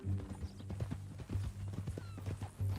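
Horse hooves clip-clop in Red Dead Redemption 2, a close, steady run of thuds at a walking pace with a soft whinny mixed in and faint low game ambience underneath.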